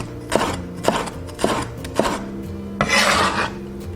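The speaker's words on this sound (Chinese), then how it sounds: "切一些青红椒丝备用。" A knife slices green and red peppers into thin strips on a cutting board, giving about six sharp, close chopping strokes, each a quick scraping cut, the last one longer and rougher; no talking.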